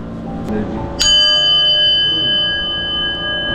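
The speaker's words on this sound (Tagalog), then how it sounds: "Yung bell, di ba pag nawawala yung bad energy, umiikli yung tunog na niya." A ringing bell, sharply struck once after a fainter earlier tap, rings out with a clear, sustained tone that lingers and slowly fades over low background voices and room noise.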